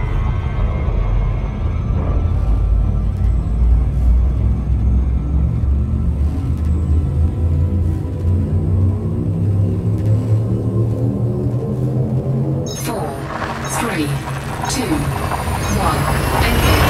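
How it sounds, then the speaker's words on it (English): Frame shift drive charging in the space game Elite Dangerous: a deep, rising engine rumble with layered harmonic hum builds continuously, with a brighter burst of mechanical whine near the end, loud and sustained. "Frameshift drive charging."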